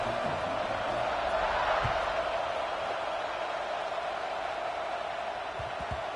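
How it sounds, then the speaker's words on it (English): Fans in the stadium at an Ohio State vs Penn State football game keep up a steady, loud crowd buzz after a score, an even wash of noise with no single voice standing out. "this crowd is buzzing after that last score"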